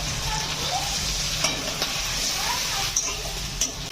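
Spices and ginger garlic paste fry in a pan with a dense, close sizzle, and a few light clicks of a utensil against the pan cut through it.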